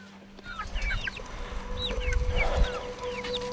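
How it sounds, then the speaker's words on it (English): Young hens on a village chicken farm cluck and squawk with repeated short, rising calls over a constant low rumble, close by and with no speech. "8 young hens she bought from another breeder in the village make up the party."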